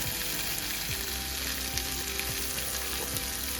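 Vegan steak frying in oil in a skillet over high heat, a dense continuous sizzle with faint crackles, close and steady throughout.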